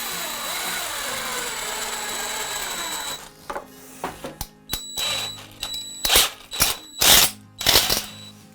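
A power drill bores a hole in a homemade coin sorter: a steady whirring run for about three seconds, then a series of sharp clicks, taps and short mechanical bursts nearby.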